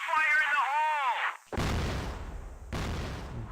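Grenade explosion in the video game CrossFire during a competitive league match: after a brief whooshing sweep, a heavy booming blast rings out, followed by a second loud burst, with a commentator's voice over the game.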